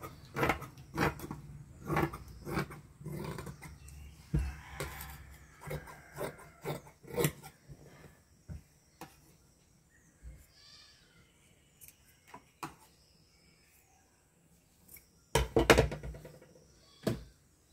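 Scissors snip through blouse lining cloth in a series of short, close cuts, clustered early and again near the end, with quiet pauses between.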